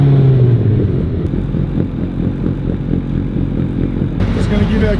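A mini truck's small engine runs steadily after being repaired, a low rumbling idle close by that holds even throughout, with a brief rise in brighter mechanical noise near the end.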